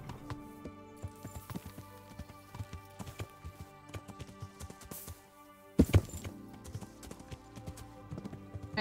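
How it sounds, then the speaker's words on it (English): A horse in the medieval video game Kingdom Come: Deliverance clip-clops along in a steady trot, hoofbeats fairly close and continuous, with a brief louder thump partway through. "There's my horse."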